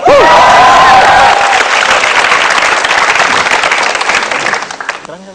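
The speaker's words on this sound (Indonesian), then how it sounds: "Jadi beri tepuk tangan buat Topeng." Audience at a stand-up comedy show breaks into loud applause and cheering, dense clapping that swells at first, holds steady, then thins out and fades toward the end.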